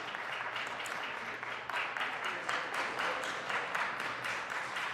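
A city council meeting audience breaks into sustained applause, a dense, even wash of many hands clapping that fills the room from start to finish.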